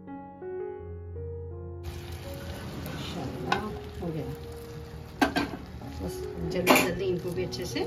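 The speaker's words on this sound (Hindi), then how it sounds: "थोड़ा सा मैं इसमें घी डाल रही हूँ, इसे जल्दी जल्दी चलाते जाएंगे।" Shahi kheer being stirred quickly in a pan with ghee just added, heat switched off, giving a soft sizzle with scattered spoon scrapes and clinks that grow busier toward the end, close by after a brief tonal intro.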